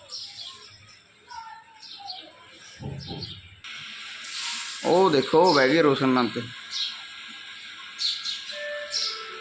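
House sparrows chirp in short, high twitters near a nest box while a person talks nearby over a faint background hiss.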